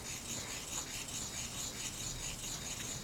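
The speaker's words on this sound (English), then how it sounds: "Or you can grind this way" Ink stick ground on a stone ink stone, a continuous fine gritty rubbing with a gentle back-and-forth rhythm, quiet and close with no voices.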